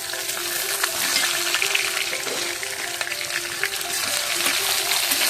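Onions and coconut pieces fry in a pan as they are stirred, giving a loud, dense, unbroken sizzle with faint scraping underneath.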